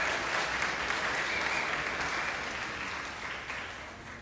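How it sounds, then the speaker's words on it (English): Audience applause for an 8th grade concert band at a spring school band concert: dense, steady clapping from a large crowd filling the hall, loud at first and gently fading over four seconds. "Let's give a round of applause for the 8th grade concert band."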